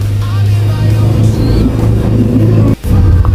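A motorbike engine on a ride to Bandung through southern Cianjur, idling loud and close with a steady low drone, briefly cut off near the end and then picking up again as the rider sets off.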